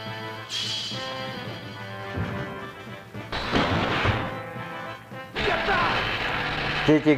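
Shots and crashing impacts in the Ultraman PS2 video game, coming as loud, dense blasts that rise in several waves over a continuous music and effects bed.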